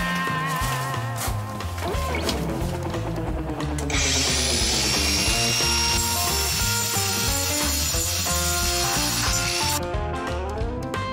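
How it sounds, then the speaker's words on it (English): Power grinding on the mainframe of a 1962 KTM Ponny De Luxe scooter during restoration, a steady, loud abrasive whine that runs throughout and brightens into a harsher high-pitched rasp midway before easing back. "At last the mainframe is also grinded and cleaned."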